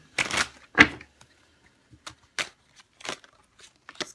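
Tarot cards are shuffled by hand in a few separate riffling bursts, two louder ones at the start followed by softer, scattered flicks and slaps, close and otherwise quiet.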